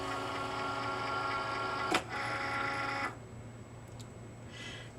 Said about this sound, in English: Then I'm going to place my card mat in and press the load button.